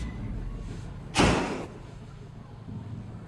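One loud, heavy door slams shut nearby, a single sharp boom that rings briefly in a quiet hallway before fading.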